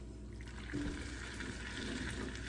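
Water poured from a measuring cup into a pumpkin spice French toast mixture, a faint, quiet trickle and splash at close range in a kitchen.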